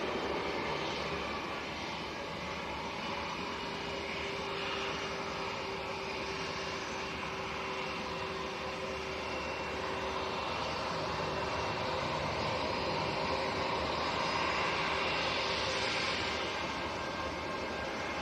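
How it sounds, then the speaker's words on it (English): A British Airways Airbus A320 jet bound for London Heathrow at Manchester Airport gives a steady, distant engine roar with a broad hiss that swells slightly toward the end, with no voices over it. "British Airways A320 to London Heathrow"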